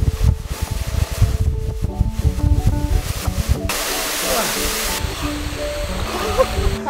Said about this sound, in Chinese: 现在我来到了一个3小时车程的瀑布旁边，这个水，哇！